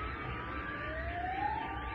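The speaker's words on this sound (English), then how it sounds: "All those sirens." An emergency vehicle siren wails in a rising sweep over a steady background rumble, sounding somewhat distant and continuous for the brief stretch.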